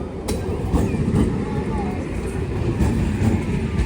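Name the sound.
train ride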